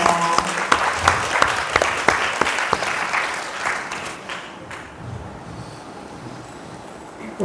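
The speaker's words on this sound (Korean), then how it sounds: "큰 박수로 환영해 주시면" An audience at an indoor education candidates' forum applauds loudly to welcome a speaker, dense clapping that fades and thins over the second half into quiet room tone.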